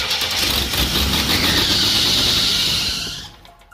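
A 1986 Cutlass 231 V6 with a two-barrel carburetor runs on choke, a steady loud engine drone with a high whining squeal that holds for about three seconds and then cuts off.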